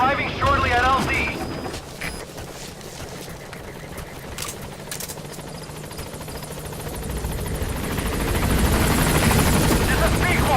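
A Metal Gear Solid V: The Phantom Pain helicopter approaches a landing zone, its rotor thrum and engine whine building in loudness toward the end, with game effects and radio voices over it.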